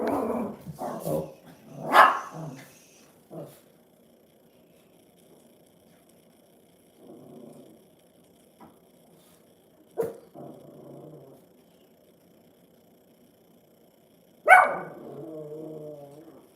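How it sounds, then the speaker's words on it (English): Two little dogs bark and growl indoors, with short bursts and yips early on, then a sharp bark and a final loud bark that trails into a whine, with quiet gaps in between. "Sorry about the barking in the back."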